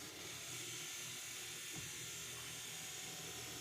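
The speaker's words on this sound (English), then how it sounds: "So I'm going to close down the mixer, and we are going to mix this." Electric stand mixer running steadily while mixing dough batter for festivals, fried cornmeal dumplings, giving a constant even motor whir at low level, heard alone throughout.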